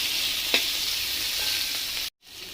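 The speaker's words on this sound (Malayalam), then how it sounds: "ഇതെല്ലാം കൂടെ നന്നായിട്ടൊന്ന് വഴറ്റിയെടുക്കാം." Vegetables sautéing in a pan for red sauce pasta: a steady, close sizzle with a few scraping stir clicks, cutting off abruptly near the end before the frying hiss resumes.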